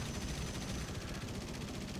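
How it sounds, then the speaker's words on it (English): Aircraft guns fire short bursts in the War Thunder video game, a dense, continuous rattle of rapid shots sustained at steady loudness with no pauses. "Firing short bursts, trying to just..."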